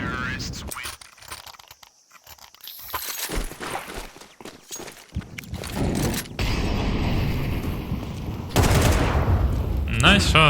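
Counter-Strike 2 match audio with bursts of rifle fire and mechanical clatter across the clip, louder near the end, mixed with game noise and a voice talking.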